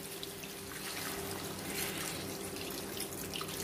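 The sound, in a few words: water poured into aloo curry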